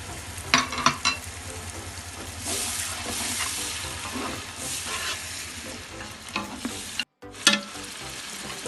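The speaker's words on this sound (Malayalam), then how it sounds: "നമ്മൾ അരച്ച് വെച്ച തക്കാളി ഇതിലേക്ക് ഒഴിക്കുക" Ground tomato paste frying in a pan with turmeric, salt and stock cubes, a moderate sizzle under repeated scraping stirs and a few sharp clinks, with a brief dropout near the end.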